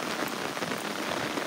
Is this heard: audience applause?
no